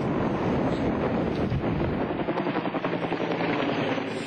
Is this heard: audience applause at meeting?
no